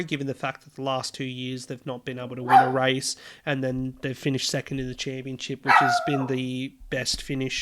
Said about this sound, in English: I apologise for the barking in the background.